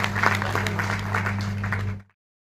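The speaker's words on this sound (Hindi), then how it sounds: "तालियों के साथ में बच्चियों का अभिनंदन करती हूँ।" An audience at a school Teacher's Day and foundation day celebration applauds young girl performers, a dense burst of clapping over a low hum that stops abruptly after about two seconds.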